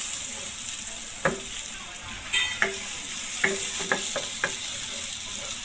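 Garlic and onion fry in a pan under an even, close hiss, while a spatula stirs them with a series of light clinks and scrapes against the metal.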